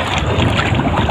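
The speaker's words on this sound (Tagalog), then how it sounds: "Kalakas na ng hangin." Strong wind blows across a boat out at sea, a loud, steady rush of gusting noise buffeting close by with no voices.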